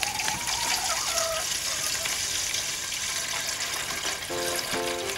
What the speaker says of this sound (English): we pour in the water from our watering can into their little pot